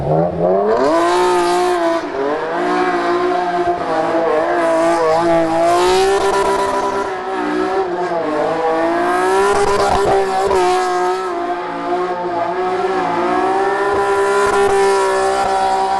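A tuned Toyota sports car engine with individual throttle bodies and a Pride titanium exhaust revs hard, its loud raspy exhaust climbing and dropping through the gears, sustained and close throughout.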